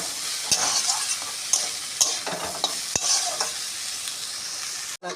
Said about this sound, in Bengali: পরিমাণ মতন হলুদের গুঁড়ো স্বাদ অনুযায়ী নুন দিয়ে এটা ভালো করে ভেজে নেব